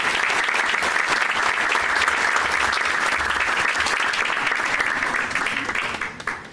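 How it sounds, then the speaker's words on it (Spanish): Sustained, dense applause from a crowd, steady and loud for several seconds before gradually tapering off at the end. "Lo recibimos con un fuerte aplauso, por favor"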